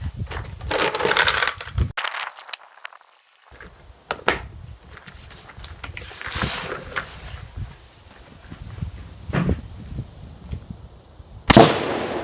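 Sharp, loud gunshots from a PSA Palmetto State Armory 10.5-inch AR pistol fired outdoors, several separate cracks spaced seconds apart with quiet stretches and faint background noise between them.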